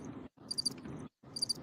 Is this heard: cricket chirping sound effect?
yes